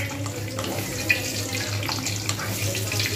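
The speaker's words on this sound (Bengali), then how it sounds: "তাই আমি এবারে পাঁপড়গুলোকে আমি এইভাবে ভেজে নেব।" Papad frying in hot white oil in a pan, a constant close sizzle and crackle with small pops, loud and steady with no talking.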